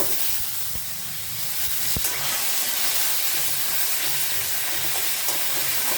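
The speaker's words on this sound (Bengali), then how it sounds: "এবার মুগের ডালটা ছেড়ে দিলাম।" Moong dal dropped into hot oil in a pan with black cumin gives a steady, loud, hissing sizzle that continues without pause, with no talk over it.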